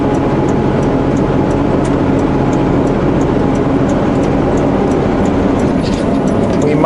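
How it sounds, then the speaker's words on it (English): A truck spins its tires on the road, heard as a loud, steady, low engine-and-road roar that continues without a break throughout. "We're spinning our tires"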